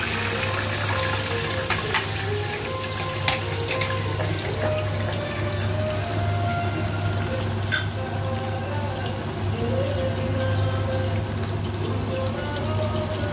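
Hilsa fish in a mustard, poppy-seed and yogurt sauce with green chillies sizzling in a pan, a steady close frying crackle with occasional clinks and light stirring, no talk.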